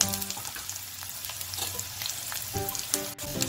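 Onion frying in a pan for veg American chop suey, a dense continuous sizzle with crackling pops and intermittent stirring scrapes, close and moderately loud.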